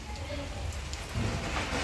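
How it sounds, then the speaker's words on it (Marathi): Heavy rain falls steadily in a brief, dense wash of noise, without pause. "एवढा पाऊस पडतो तरी पण."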